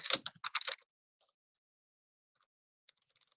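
Quick, close clicks of typing on a computer keyboard in a short burst, then near silence with a few faint taps afterward.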